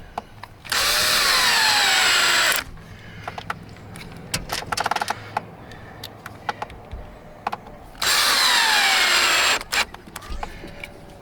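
Power drill driving small deck screws into wood while mounting a wireless backup camera bracket, two loud sustained whirring bursts of about two seconds each, separated by clattering handling noises, close and without talk.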